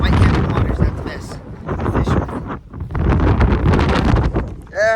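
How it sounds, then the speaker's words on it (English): Strong wind roars across open, whitecapping water during a fishing trip, buffeting the microphone in loud, continuous gusts with a brief lull midway. "It is windy, so if you can't hear me, I'm gonna yell."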